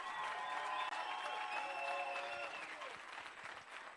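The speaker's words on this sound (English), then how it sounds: "Let's give them a round of applause." Summit audience breaks into a round of applause that stays steady at first, then tapers, with faint voices mixed into the clapping.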